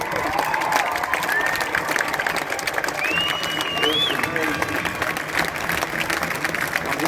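An outdoor crowd at a Freedom Day rally in Wellington applauds and cheers steadily, with whistles cutting through the clapping, and it keeps up throughout.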